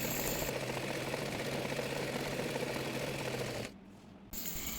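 A sewing machine runs steadily while stitching a petticoat seam, a continuous close whirring hum that cuts out briefly near the end and then resumes.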